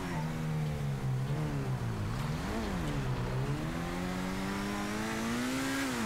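A sports car's engine in GTA Online drones steadily with a buzzy, rising and falling revving tone, loud and continuous with no talk over it.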